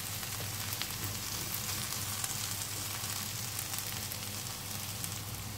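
Sliced potatoes sautéing in a pan on the stove give a steady, even sizzle and crackle throughout, moderately loud and close, with no talking.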